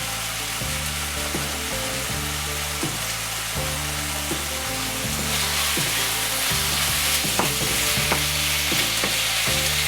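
Thinly sliced beef soaked in soda fries in a pan with a steady, loud sizzle, backed by a low mechanical hum and occasional clinks of stirring.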